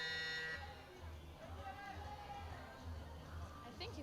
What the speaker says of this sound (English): 1 minute alarm about to sound.